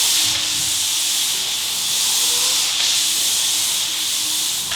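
Drywall joint compound being sanded by hand, a steady broad scratchy rubbing with soft swells of stroke rhythm, close and continuous without talk.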